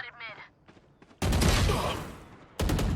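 Rapid bursts of automatic gunfire in the video game Valorant, loud and close, breaking out after a brief moment of speech, then a second burst after a short pause.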